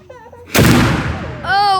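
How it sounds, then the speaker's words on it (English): A Revolutionary War cannon, touched off with a slow match at the vent hole, fires a single loud, close boom that rolls away over about a second, with people talking just before and right after. "So when she's ordered to touch the slow match to the vent hole, it'll flare down and go boom."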